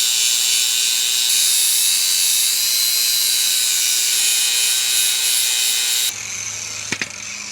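A utility trailer coupler being sanded down: a loud, continuous high-pitched grinding whine that holds steady for about six seconds, then cuts off into quieter hum with a couple of brief clanks.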